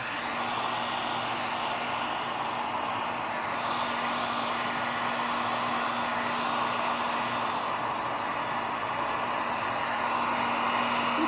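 Heat gun blowing on fluid paint, a steady close airy roar with a constant hum running throughout at even loudness, no talk.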